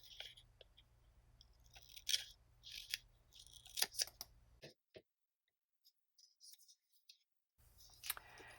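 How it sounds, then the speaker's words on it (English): Small scissors snip vinyl for a 1:12 scale dollhouse fridge: several crisp, close cuts come in irregular bursts, then a pause of near silence before a final snip, with faint handling noise and a low hum. "just lift up a little bit of that backing from the vinyl and just snip off a piece"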